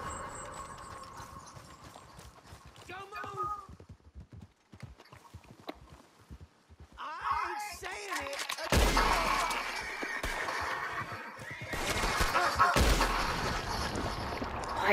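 Gunshots in Red Dead Redemption 2 ring out as a few sharp, loud blasts in the latter half, over hoofbeats of a galloping horse and a busy game soundscape.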